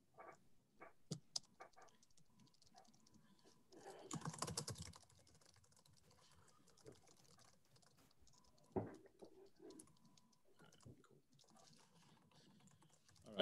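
Someone types on a computer keyboard during a quiet online meeting, with slow, irregular keystrokes, a denser burst of clicking partway through, and long pauses between taps.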